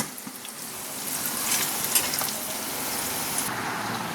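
Onion and bay leaf frying in hot oil, a continuous hissing sizzle that swells gently and holds steady, with a few faint clinks and no speech.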